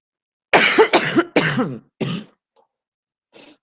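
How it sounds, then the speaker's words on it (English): A run of four harsh, close coughs in quick succession, followed by a short pause and one faint, softer cough. "I am so sorry about the coughing."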